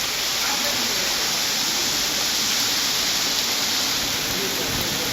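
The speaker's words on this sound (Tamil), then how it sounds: "பலத்த காற்றுடன் மழை பெய்தது" Heavy rain driven by strong wind pours down in a steady, loud, unbroken rush around Mettupalayam, Karamadai and Sirumugai, with a voice speaking over it.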